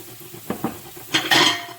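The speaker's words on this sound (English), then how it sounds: "So I have the carrots and I have them sauteing because they take a little bit longer to cook." Carrots sautéing in a pot, with a few short knocks and scrapes of a utensil against the pot and then a louder burst of sizzling and stirring near the end, no voice.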